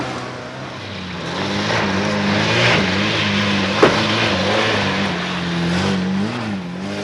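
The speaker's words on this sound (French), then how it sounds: "le Rancho passe fort bien et même assez vite dans les plus mauvais endroits" Matra Rancho car driving off-road over rough ground, a steady loud engine drone with shifting pitch and a short knock midway, heard close without talk.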